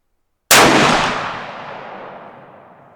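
A Ruger Gen 2 rifle chambered in 7 PRC fires a single Hornady ELD-X round, one loud, close blast after brief silence that decays in a long rolling echo.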